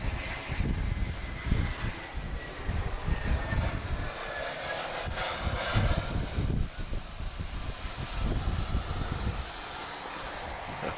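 Eurowings airliner at Lisbon Airport in a moderate crosswind, its engines making a steady, fairly distant roar throughout with no talk over it.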